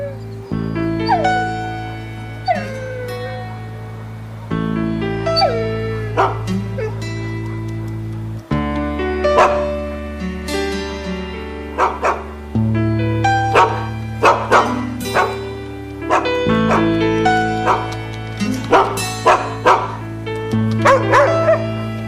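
Several dogs bark in repeated sharp bursts over a steady low hum and background music, with a few yips mixed in. The barking is loud and fairly close.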